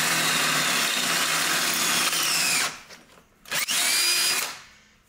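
A loud power drill whines steadily while boring a 13/32 hole in metal, leaving a burr, pauses briefly, then revs again before winding down to a stop.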